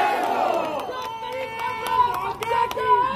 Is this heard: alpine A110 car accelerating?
no